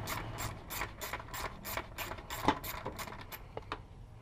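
A ratchet removing bolts from the side panel over the coil packs of an LSx engine, a close series of rapid metallic clicks in steady strokes, with one sharper clack midway and the clicking trailing off toward the end.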